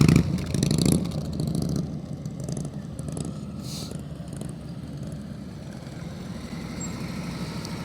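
A motorcycle engine chugs at low speed with the throttle held steady during slow-speed riding practice, a continuous low rumble that is louder at the start and then settles into an even drone.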